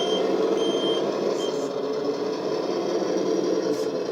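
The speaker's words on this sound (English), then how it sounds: "we do have our bright white reversing lights with the beeping sound" A toy 770S 6x6 tractor truck gives off a steady electronic reversing beep, loud and close, repeating evenly over a constant buzzing hum.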